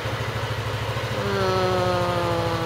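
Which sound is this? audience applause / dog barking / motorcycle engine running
motorcycle engine running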